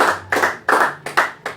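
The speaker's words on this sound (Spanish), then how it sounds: "Díganle un aplauso al Señor." A church congregation claps together in rhythmic bursts, about four or five loud waves of clapping, close and alone with no talk.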